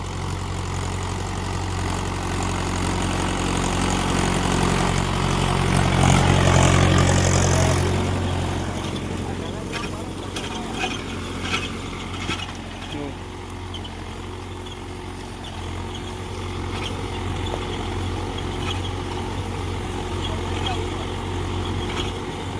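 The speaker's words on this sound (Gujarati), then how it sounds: "આપણે ટ્રેક્ટર ઉપર ચડીને પણ દેખાડી કઈ રીતના હાલે પ્લાવ." Mahindra Yuvo 575 tractor pulling a plough through a field, its diesel engine droning steadily and fairly loud up close, swelling for a few seconds early on with a person talking over it.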